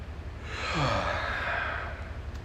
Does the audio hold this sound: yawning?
yes